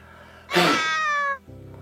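A single drawn-out cat meow used as a sound effect, loud and close, about a second long, over a quiet background.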